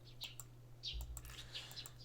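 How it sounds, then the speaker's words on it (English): Small birds tweet in the morning, several quick, faint chirps scattered through the clip over a low, steady background hum. "I hear the tweeting of small birds."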